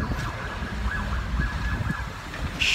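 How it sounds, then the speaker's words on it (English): A faint wailing siren rises and falls in the distance beneath gusty wind noise and low rumbling. "Quit with your stupid sirens."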